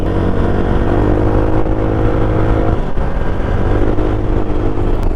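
A Yamaha NMAX scooter motorcycle on the road gives a steady engine drone mixed with rushing wind, loud and continuous.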